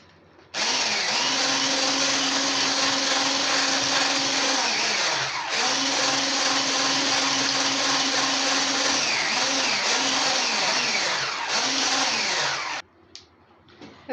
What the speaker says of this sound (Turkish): 1-2 dakika bunu mikserle çırpacağız.